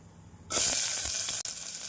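Chopped onions hit hot oil with cumin, fennel and cardamom, making a sudden loud sizzle that keeps crackling and hissing steadily, close by, with a brief dip near the end.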